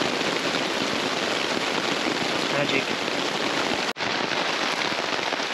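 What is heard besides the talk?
rain falling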